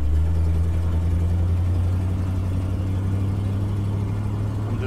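A 1979 C20 pickup rolling along slowly, its engine giving a steady low droning rumble with a constant hum, loud and close throughout with no voices.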